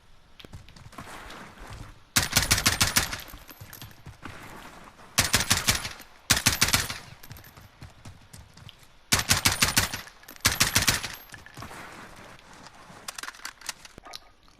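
An AR-15 assault rifle fires in Call of Duty Modern Warfare, several short, sharp bursts of rapid automatic shots with pauses between them, over a low background hum.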